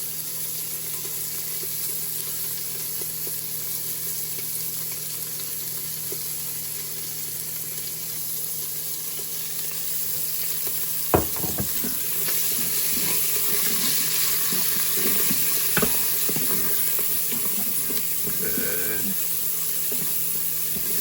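Onions and peppers sizzle in a hot pan, a steady hiss with a few louder clatters and stirring scrapes partway through, no talking.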